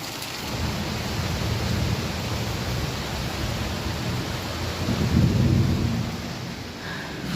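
A morning thunderstorm with rain makes a steady, loud roar of falling water, and a deep thunder rumble swells midway before easing off, with no one speaking.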